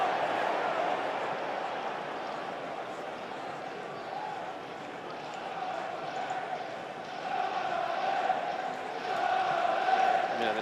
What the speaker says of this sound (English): the Sunderland crowd trying to get the boys going here